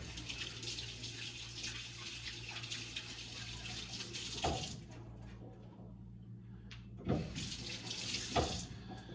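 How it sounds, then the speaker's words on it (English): A hand is rinsed under a running faucet, a close, steady hiss of flowing water that breaks off briefly and then resumes, with splashy bursts as the hand moves through the stream. "Wash my hand off real quick."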